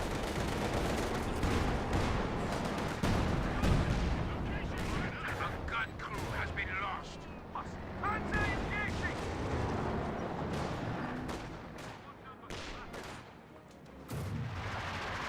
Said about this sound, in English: 120mm mortar firing away